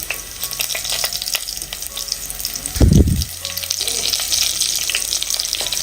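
Onions frying in hot oil in a pan, with fenugreek powder and curry leaves added, give a steady close sizzle throughout, with a louder burst of bubbling as the leaves hit the oil midway.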